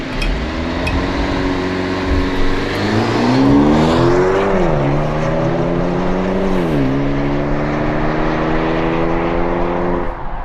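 A 2023 Maserati Grecale Modena in sport mode pulls hard from a standstill, its engine note rising loudly through the gears with two distinct shift dips, heard from inside the cabin as a steady, strong roar.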